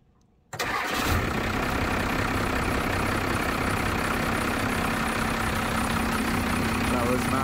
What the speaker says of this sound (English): And then we'll do the starter.